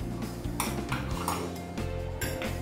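A dessert spoon scooping mustard and clinking against a bowl, busy metallic taps and scrapes over a steady kitchen background hum.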